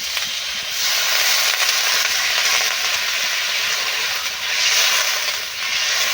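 Chicken and potato curry sizzles loudly in a pan as water is poured in, a steady broadband hiss with a brief dip and swell, no talking.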